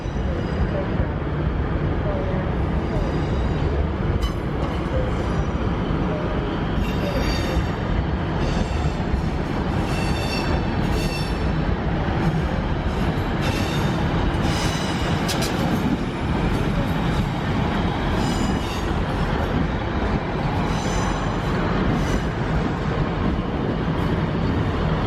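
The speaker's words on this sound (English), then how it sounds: "So we'll have a little bit of train movements here at Glasgow Central High Level." Trains moving at Glasgow Central High Level station, a continuous low rumble and roar of rolling stock with faint metallic squeals on top, steady and moderately loud throughout.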